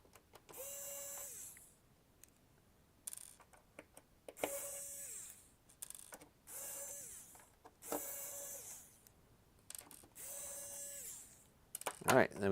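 A screwdriver backs screws out of a Beelink SER8 mini PC in several separate bursts of close ratcheting, clicking mechanism noise, each a couple of seconds long with quiet gaps between.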